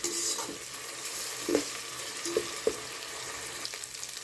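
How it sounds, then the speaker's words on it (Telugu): Onion fried with ginger garlic paste in a pan for pudina pulao sizzles softly while a spoon stirs and scrapes, with a few distinct knocks against the pan. "ఆనియన్ కొంచెం వేగిన తర్వాత కొంచెం జింజర్ గార్లిక్ పేస్ట్ ఇది కూడా కలిపి వేయించుకోవాలి"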